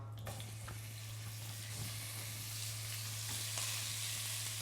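Pieces of lamb sear in a hot pan with a continuous close sizzle and crackle, a few sharper spits popping over a steady hiss, under a constant low hum.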